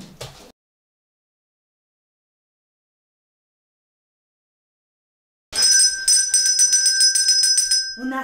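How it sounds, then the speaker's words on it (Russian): An electronic bell rings loudly and steadily for several seconds to start a speech therapy lesson at home, after a brief sound and a long silence. "У нас с тобой звонок."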